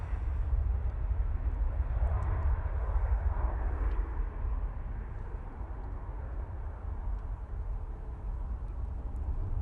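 Ryanair Boeing 737-800 departing Manchester Airport, a low, steady engine rumble at moderate distance that holds through the whole clip and fades slightly toward the end.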